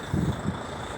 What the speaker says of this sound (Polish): chodzą diesle, bo zimno, zima